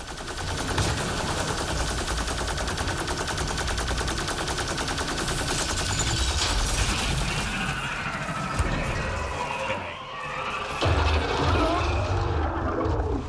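Sustained weapon fire from a long-firing gun in Mass Effect Andromeda, dense and steady for about ten seconds, then a brief dip and a heavy crash-like burst near the end, mixed with game effects.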